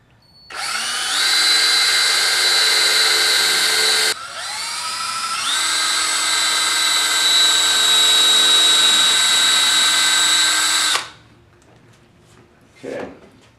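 A power drill bores pilot holes in cherry wood for a miniature table, giving a loud, sustained whine that dips briefly and then climbs again before stopping, with a short knock just after.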